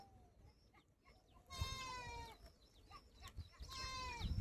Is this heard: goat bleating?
yes